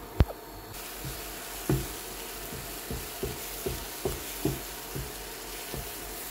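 Scrambled eggs cooking in a pan, left both burnt and raw, with light rhythmic spatula taps and scrapes repeating about twice a second over a faint, steady sizzle.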